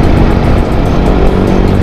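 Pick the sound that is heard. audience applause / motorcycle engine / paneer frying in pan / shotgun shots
motorcycle engine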